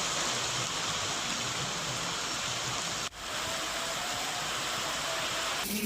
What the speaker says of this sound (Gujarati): લીલિયા શહેરમાં મુશળધાર વરસાદ ખાબક્યો